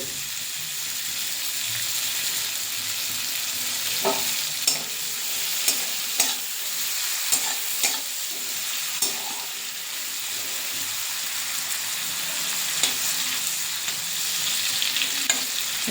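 Chopped onion frying in mustard oil, a continuous sizzle with scattered stirring scrapes and taps of a utensil against the pan, close and steady throughout.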